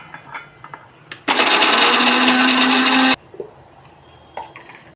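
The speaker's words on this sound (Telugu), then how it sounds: "ఇప్పుడు ఈ ముక్కలన్నీ మిక్సీలో వేసేద్దాం" A mixer grinder grinding coconut pieces starts abruptly, whirs loudly for about two seconds with a rising whine, then stops, leaving quiet clatter around it.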